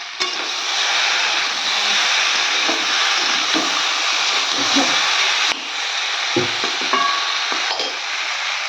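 Young jackfruit sautés and gets stirred in a pan, giving a loud, continuous frying hiss close by, broken by occasional scrapes and soft knocks from the spatula.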